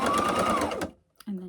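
A sewing machine stitches a quilted padded tablet zipper bag in a fast, continuous whirring run that stops abruptly, followed by a short pause and a brief low sound.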